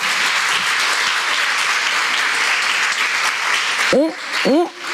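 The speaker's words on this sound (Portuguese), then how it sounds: "Aplauda o Senhor, gente." A church congregation applauds steadily and loudly, and near the end a voice cries out twice over the clapping.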